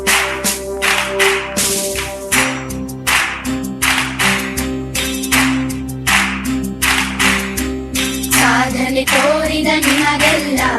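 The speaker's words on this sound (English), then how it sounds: "Let's keep clapping for them." Audience hands clapping in steady, rhythmic waves for an under-14 girls' Kho-Kho team honoured at a school felicitation, set against continuous music and growing denser near the end.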